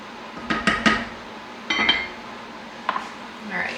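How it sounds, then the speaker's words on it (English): A metal lid set on a pot of boiling rice and a spoon stirring: a few sharp clanks and clinks spaced apart, with low kitchen background noise between them. "I'm going to put the lid on and give it a little stir."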